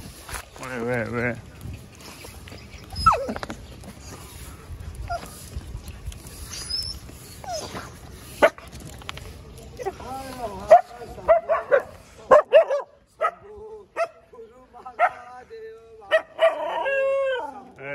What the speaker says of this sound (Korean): 니들이 짖으니까 온 가트 애들이 다 따라 짖잖아